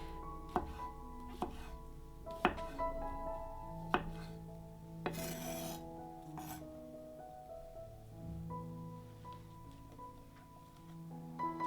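A knife chops mushrooms on a cutting board for a chicken dinner, giving a few sharp, spaced-out chops over a soft background of music.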